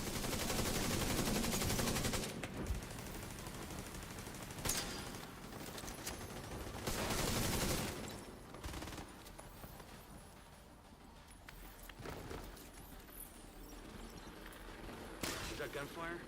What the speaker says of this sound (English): Is that gunfire?